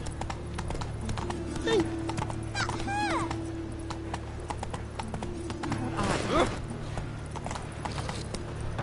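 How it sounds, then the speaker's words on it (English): Horse hooves clip-clop at a steady walking rhythm in The Witcher 3, close and clear over game ambience, with a brief neigh partway through and voices talking over it. "Whoa there, Roach."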